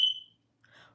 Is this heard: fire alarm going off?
yes